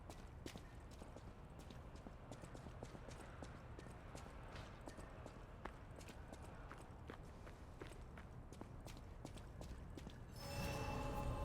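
Horse hooves clip-clop in a steady walking rhythm in the video game Lies of P, fairly faint, with a brief burst of other noise at the very end.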